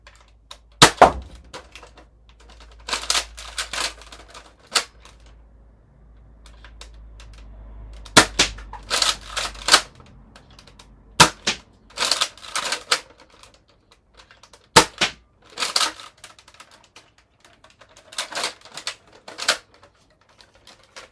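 Nerf Elite Retaliator blaster firing foam darts, a series of sharp snapping clicks and thumps in irregular clusters, close and fairly loud against near silence.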